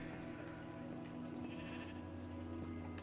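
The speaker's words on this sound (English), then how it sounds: "So we've got another sheep here." A sheep in the Minecraft video game bleats over a steady hum of game background music, the calls soft and not clearly separated from the constant tonal bed.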